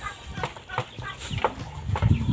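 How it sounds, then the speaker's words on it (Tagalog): Chickens on a farm let out scattered clucks and short calls close by, with a voice talking in the background. "So dito sa taas, may mga manok din dito mga parikoy."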